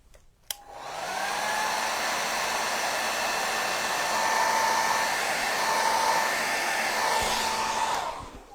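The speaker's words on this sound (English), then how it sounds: "I'll hit that with the blow dryer real quick" A hand-held blow dryer switches on with a click and runs close and loud, a steady whirring roar held for about eight seconds over wet acrylic paint before cutting off.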